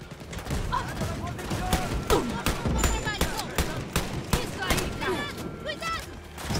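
Repeated gunfire in the shooter game Wolfenstein: Youngblood, set in catacombs, with sharp shots firing in uneven bursts throughout, close and loud, mixed with game effects while a player talks excitedly over it.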